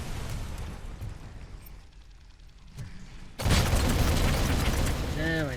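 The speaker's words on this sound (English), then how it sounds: "Grenade." A grenade blast in the video game RoboCop: Rogue City: a sudden loud, broad explosion that bursts in partway through and stays roaring to the end, following a stretch of quieter game noise.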